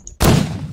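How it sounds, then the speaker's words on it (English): A grenade goes off in GMod Prop Hunt: a single loud, close blast that starts abruptly and then leaves a sustained rumbling roar trailing on to the end, with no talking. "I'm setting off a grenade in here."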